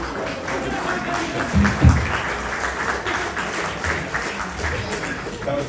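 Audience applause at a city ceremony celebrating the Dalai Lama's 90th birthday: steady, moderately loud clapping fills the room throughout, with a brief louder burst near the middle and some crowd murmur mixed in.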